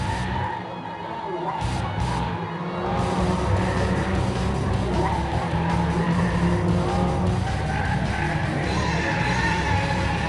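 Toyota Vios race cars compete on a circuit in the Vios Cup one-make series, engines roaring steadily and loudly throughout with tyre squeal and crowd or commentary noise mixed in.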